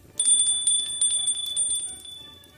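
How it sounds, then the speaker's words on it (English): A hand bell rung indoors, a bright metallic ringing with rapid repeated strikes, close and loud, fading out after about two seconds. "Let me just ring the bell."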